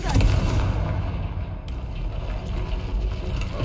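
A Confringo fire spell goes off in Hogwarts Legacy, a dense, loud rumbling blast with a crackling edge that starts strong and keeps roaring steadily through to the end, with no voices.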